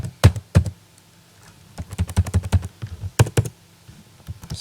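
C++ code is typed on a computer keyboard: close, crisp keystrokes come in quick irregular bursts with short pauses between them.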